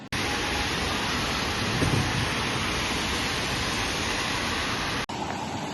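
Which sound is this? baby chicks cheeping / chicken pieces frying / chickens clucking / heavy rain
heavy rain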